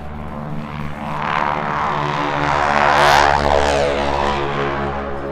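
A propeller airplane at EAA AirVenture Oshkosh 2017 drones past, its engine hum swelling to a loud peak and then easing off slightly, with no voices over it.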